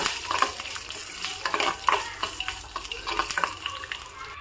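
Chopped ingredients and peeled garlic cloves are stirred in a hot pan, giving repeated scraping strokes over a soft, continuous sizzle, close up with no talking.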